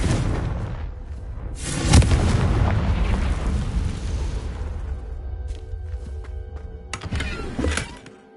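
A Confringo fire spell explodes in the video game Hogwarts Legacy, a loud booming blast near the two-second mark followed by a sustained rumbling roar, with another burst near the end.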